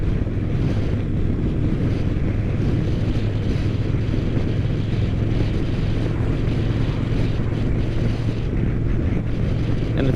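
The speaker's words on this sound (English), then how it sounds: "still got some wind pounding on my helmet" Steady, loud wind buffeting a motorcycle helmet while riding a KTM 1290 Super Duke GT fitted with a bigger windscreen, a constant roaring rush with low engine drone beneath, no speech.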